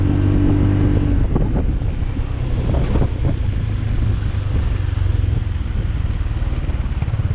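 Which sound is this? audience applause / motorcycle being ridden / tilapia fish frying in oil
motorcycle being ridden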